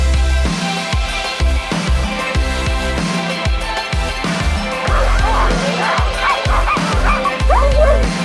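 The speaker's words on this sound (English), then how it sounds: "they are working dogs. They love to run. So that noise you're hearing is their excitement" Excited sled dogs bark and yelp in rapid, overlapping bursts, loud and close, with a rhythmic chorus that keeps going throughout and a few human voices mixed in.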